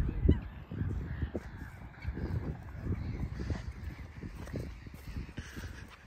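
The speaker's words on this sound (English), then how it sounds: "Plenty of birds about today." Honking geese and other farm birds call outdoors near grazing cattle, a scattered chorus of short calls at moderate distance over steady wind and ambient noise.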